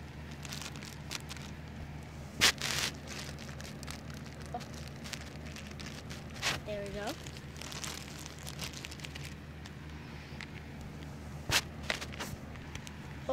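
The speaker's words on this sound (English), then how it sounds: "Let me just open it with some scissors." Toy packaging for a Littlest Pet Shop figure is cut and crinkled open with scissors, giving scattered plastic rustles and a few sharp snips over a low background hum, without talk.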